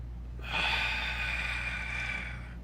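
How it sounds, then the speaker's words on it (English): A single slow, deep breath lasting about two seconds, a soft airy rush of air, close and alone against quiet room hiss. "You want to take a deep breath."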